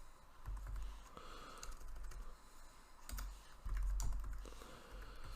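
Close, quiet keystrokes on a computer keyboard, tapping in short uneven bursts with brief pauses, while typing in a name during account creation; no one speaks.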